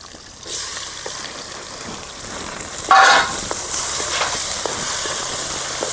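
Chopped tomatoes and onions frying in a pan for fig sambar, a steady close sizzle with a brief louder burst as the tomatoes hit the hot oil, then continuing crackle.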